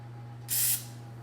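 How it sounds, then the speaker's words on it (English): A single short burst of cooking spray onto baking pans, a bright hiss lasting about a quarter second over a low steady hum. "So now we're gonna go ahead and spray the pans."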